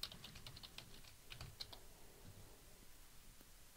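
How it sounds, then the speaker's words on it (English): Password being typed on a computer keyboard while setting up a MySQL database connection, a quick run of faint key clicks over the first two seconds, then sparse taps in a quiet room. "I need to type in the password."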